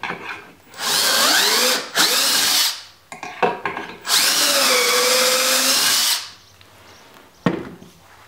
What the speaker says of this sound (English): I'm just going to go ahead and drill my last two holes here.